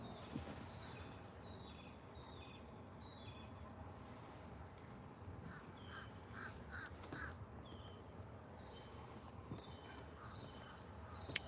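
Crow cawing outdoors near a parked van, a series of short harsh calls repeating through the middle, fairly distant and faint over a steady background hiss.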